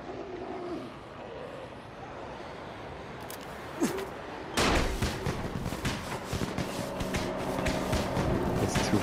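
Firecrackers in the video game Dying Light burst in a rapid cluster of sharp crackling pops after a quiet stretch, one earlier lone pop, then dense snapping bangs continuing at moderate distance.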